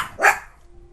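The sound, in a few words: dogs barking in Game of Thrones video game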